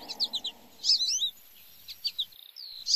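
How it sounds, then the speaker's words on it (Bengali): A small bird chirps in the morning in quick bursts of high, twittering notes, close and clear, with short pauses between phrases and faint background hum. "কিন্তু সকালে একটা ছোট্ট পাখির আওয়াজে ঘুম ভেঙে যায়।"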